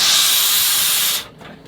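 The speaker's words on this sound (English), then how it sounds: "I'm spray painting my 6th shoe" Spray paint can hissing as paint is sprayed onto a shoe, a steady close-up burst lasting just over a second before cutting off sharply into near silence.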